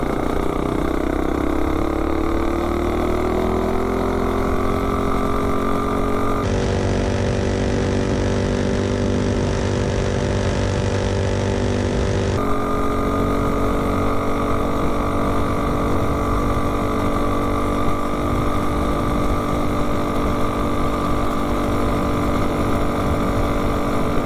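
A minibike with a 30-series torque converter makes an uphill top-speed run, its small engine droning loud and steady for a long stretch with a slowly rising pitch and a sharp drop in tone partway through.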